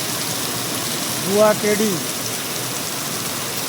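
Steady rain falls in a village area, a constant broadband hiss that stays even throughout, with someone briefly speaking over it midway.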